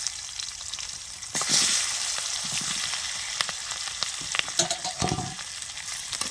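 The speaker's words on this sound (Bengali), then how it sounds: "এই যে টমেটোগুলো দিয়ে দিচ্ছি" Tomatoes fry in leftover fish-frying oil with a steady bright sizzle, while occasional spatula clinks and scrapes stir through the hiss, close and alone without speech.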